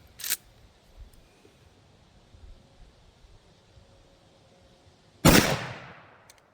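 A .327 Federal Magnum round fired into ballistic gel: one sharp, loud, close report with a decaying tail, after a faint click earlier and quiet stillness between.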